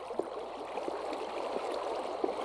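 Steady rushing and gurgling of flowing water currents in a Minecraft mob grinder, continuous and moderately soft with small splashes.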